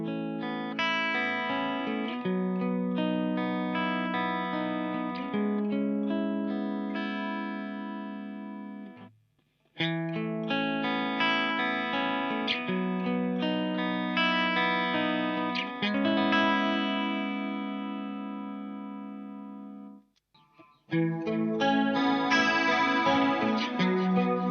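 Electric guitar played through the clean channel of a Bugera amplifier, ringing chords and melodic lines in three phrases separated by short pauses, loud and close with no talk.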